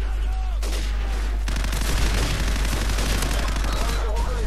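Sustained rapid gunfire in a Call of Duty 4 match, dense overlapping bursts and shots filling the scene continuously, loud and close, with a brief talking voice early on.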